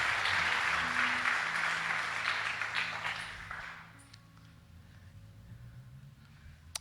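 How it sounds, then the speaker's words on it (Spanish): A church congregation applauds, a broad sustained wash of clapping that fills the first few seconds and then thins and fades away, leaving a quieter hall. "yo quiero que usted le dé un aplauso enorme a Jesús"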